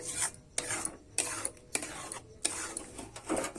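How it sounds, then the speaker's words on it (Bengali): Spatula scraping and stirring thick carrot pitha dough in a pan, rhythmic rasping strokes about every half second, close and alone without talk. "দেখো আমি নেড়ে চেড়ে কিন্তু একটা ড্রো তৈরি করে নিয়েছি"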